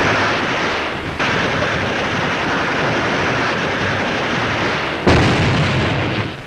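Hand grenade blasts against cliffs above water, a continuous loud rumbling roar of explosions with a sharp fresh burst near the end and no voices.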